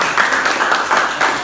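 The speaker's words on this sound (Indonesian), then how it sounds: "Oke, tepuk tangan." A short burst of classroom group clapping from students, brisk and fairly loud, with a few uneven louder claps standing out in the patter.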